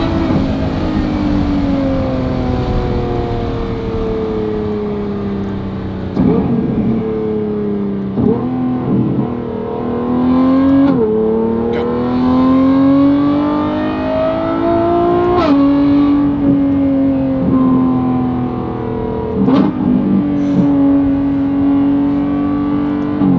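A Lamborghini Revuelto fitted with a Valvetronic Designs race exhaust revs repeatedly, its loud high-pitched engine note climbing and falling in sharp bursts, close and continuous with no talking.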